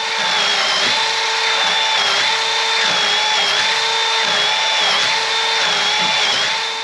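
A power drill bores holes into a metal plate for welded studs during a minitruck brake booster delete, its steady high whine running loud and continuous with slight pitch dips as the bit bites.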